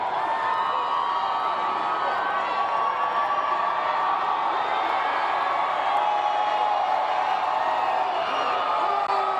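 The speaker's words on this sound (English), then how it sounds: "Can you hear the crowd?" Large outdoor crowd along a downtown parade route celebrating the Denver Nuggets championship, a steady dense roar of cheering, whooping and shouting that stays loud and unbroken throughout, with voices mixed into the din.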